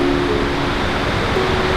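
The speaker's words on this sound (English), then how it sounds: "That is a sweet waterfall." Water crashes down a waterfall in Central Oregon in a constant loud hiss and rumble, near and unchanging through the short stretch, with nobody talking.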